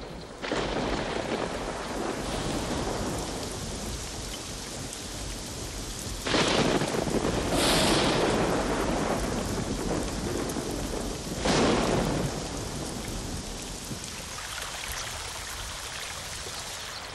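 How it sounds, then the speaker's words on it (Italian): Thunderstorm breaking over the dry Kalahari after nearly a year without rain: steady heavy rainfall throughout, with two loud, near thunder crashes rolling through midway, no voices. "ora si sta formando un terribile temporale"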